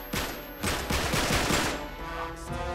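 Enemy gunfire in Uncharted 3 rings out as loud, close bursts of rapid shots in several clusters, with no talking.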